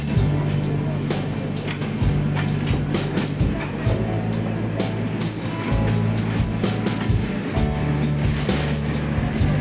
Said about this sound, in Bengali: এই আমাদের ট্রেন স্টেশনে ঢুকছে।